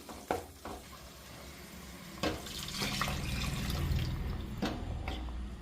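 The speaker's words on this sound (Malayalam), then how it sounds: "ഒരു കപ്പോളം വെള്ളം കൂടി ഇതിലേക്കൊന്ന് ഒഴിച്ചു കൊടുക്കണം" Water poured from a rinsed mixer jar into a pan of Kerala-style roasted-coconut chicken curry, setting off a steady close hiss and bubbling sizzle with a few soft clinks and stirring sounds, no voices.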